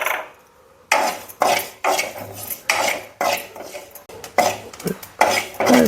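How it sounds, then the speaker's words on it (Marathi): Cumin and white sesame seeds dry-roast in a pan, stirred in close, rhythmic bursts of scraping, rustling crackle roughly every half second, with no voices. "तळतळ आवाज हे सगळं चांगले भाजून घ्या"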